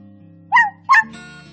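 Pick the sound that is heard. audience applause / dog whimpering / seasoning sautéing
dog whimpering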